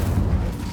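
The Incendio fire spell goes off in Hogwarts Legacy, a single short, loud burst with a deep booming whoosh that fades quickly.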